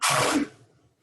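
A single sharp, breathy burst like a sneeze, close and brief, quickly fading into quiet.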